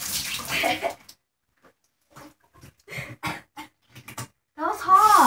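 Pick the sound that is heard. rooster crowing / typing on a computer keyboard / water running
water running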